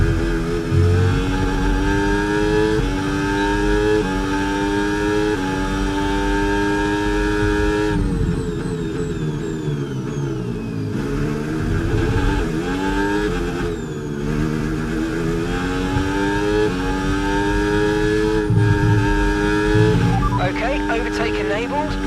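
An F1 race car engine screams in the F1 26 video game, with its pitch sweeping up and down through gear changes as hybrid boost kicks in. The engine stays loud and continuous throughout, and a race engineer's voice talks over it.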